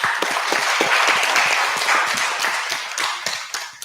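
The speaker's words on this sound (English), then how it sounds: "let's give ourselves and the organizers, everybody in this, a big round of applause" At the final of a quiz competition, participants and organizers give a big round of applause: many crisp, distinct claps in a lively, irregular patter, close and loud, easing off slightly near the end.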